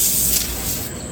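An aerosol spray can on a '68 dump truck engine job gives a close, steady hissing spray that thins and sputters out as the can runs empty, with no talk.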